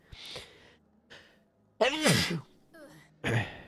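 A single sneeze bursts out loudly in the middle, preceded by a couple of soft breathy inhales and followed by a short sharp exhale.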